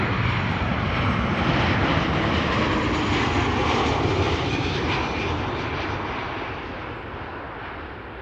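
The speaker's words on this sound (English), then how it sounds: "this is KLM flight 1614, arrival from Milan. 737-800" A KLM Boeing 737-800 arriving from Milan at Amsterdam Schiphol roars past loudly and close, a dense continuous jet rumble that slowly fades toward the end.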